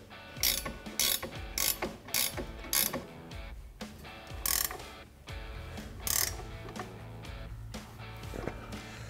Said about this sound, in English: Now we're just going to go through and fully tighten our Nerf bar hardware